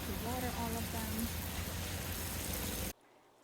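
Water pours steadily onto newly planted salvia and superbena in a Florida garden bed, a continuous rushing hiss that cuts off abruptly near the end, while a voice hums or murmurs over the first half.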